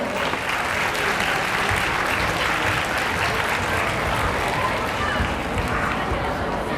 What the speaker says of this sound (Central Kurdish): تکایە بە چەپڵەکانتان پێشوازیان لێ بکەن.